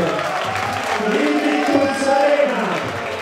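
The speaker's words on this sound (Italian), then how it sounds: "un grande applauso" A crowd at a boxing event claps and cheers for a 16-year-old fighter's ring entrance, a broad steady roar with talk mixed in throughout.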